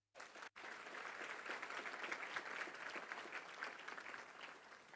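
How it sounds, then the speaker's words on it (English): Audience applause at a community event on trauma and healing. It starts abruptly after a brief break, then a dense, steady clapping holds at moderate distance and tapers slightly toward the end. "Let's give them a round of applause"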